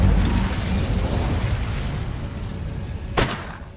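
Incendio fire spell cast in Hogwarts Legacy, a dense roaring burst of flame that rumbles steadily and ends in a short, sharp crackling pop near the end.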